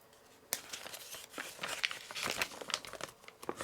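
A paper user manual is folded and creased by hand, giving close, quiet crinkling and rustling in irregular bursts, with no speech.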